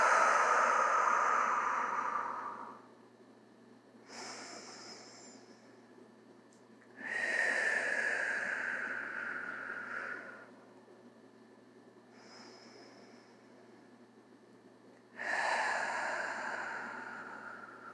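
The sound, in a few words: slow prenatal yoga breathing in and out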